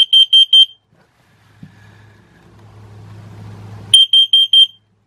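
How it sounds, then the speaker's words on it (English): CO2 alarm in a GeoPro RV in test mode, sounding two bursts of four loud, sharp, high-pitched beeps separated by a few seconds of quiet low rumble. "So that's the CO2 alarm."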